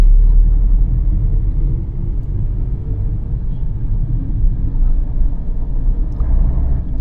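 Car engine pulling away and shifting up through the gears in Chennai city traffic as a signal opens, a loud, steady low rumble filling the whole stretch without letup.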